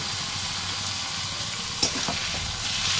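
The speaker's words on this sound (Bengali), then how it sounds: "পেঁয়াজটা ভালো মতো ভাজা হয়ে গেছে, এবার ম্যারিনেটেড চিকেনটা অ্যাড করে দেবো।" Marinated chicken sizzles loudly in a pan of fried onions, a steady close frying hiss with a brief stirring clatter midway.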